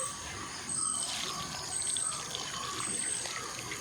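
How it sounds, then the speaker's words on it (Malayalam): Water pours steadily from a tap over fresh karimeen (pearl spot fish) in a kitchen sink for cleaning, a soft continuous splashing gush with no talk. "കുറച്ച് വെള്ളം ഒഴിച്ചു കൊടുക്കാം."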